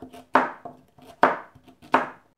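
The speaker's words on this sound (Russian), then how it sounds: "А теперь я крупно вот так нарезаю два лука, вы видите передо мной и две морковки." A knife chops onions and carrots into large pieces on a board, three sharp loud cuts spaced evenly with lighter knocks between them, close and without talking.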